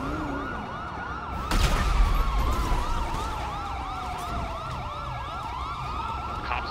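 Police sirens in a GTA V roleplay on NoPixel, several wailing and yelping sirens overlapping as the vehicles arrive, loud and close, with a sharp bang near the start and engine rumble underneath.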